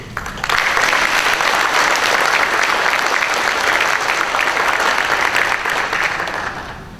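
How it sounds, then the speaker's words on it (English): A round of applause for police officers at a township police awards night, loud and dense clapping from a large indoor audience that swells quickly, holds steady for several seconds, then tapers off. "Please join me in now with a round of applause for these officers"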